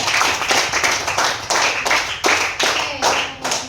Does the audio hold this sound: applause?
yes